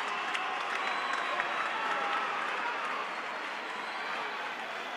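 Alianza Lima volleyball players clap and celebrate at an award ceremony, steady applause with a crowd murmur that eases slightly toward the end, with voices mixed in.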